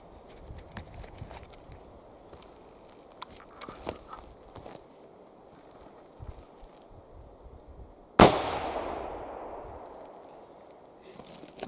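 A single loud, sharp shot from an 1840s percussion-cap tradegun cracks out after several seconds of quiet shuffling, its blast trailing off in a fading echo.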